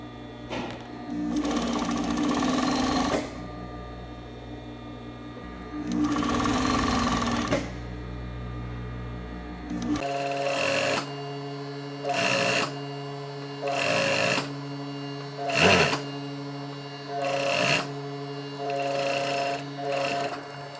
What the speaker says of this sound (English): You're just going to be sewing a 1/4.